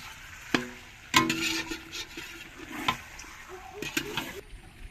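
Turmeric being stirred into raw chicken for biryani in a village kitchen: a few sharp utensil knocks against the pot, with scraping and wet mixing sounds between them, close and moderately quiet.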